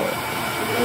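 A hair dryer blows steadily at close range while a husband blow-dries his wife's damp, curly hair, a continuous airy whoosh with a slight rise toward the end.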